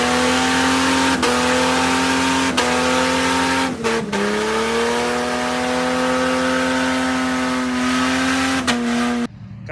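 The engine of a five-speed Jeep Grand Cherokee ZJ revs loudly and steadily, holding a sustained droning pitch that dips briefly at a few points as it shifts between revs, close up and continuous.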